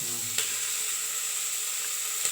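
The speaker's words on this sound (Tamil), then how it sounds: "இதை இப்போ நல்லா வதக்கலாமா நல்லா வதக்கிக்கணும்" Onions sautéing in hot oil in a pan for a Tamil home-style dish, a steady soft sizzle that stays even throughout with a couple of faint clicks.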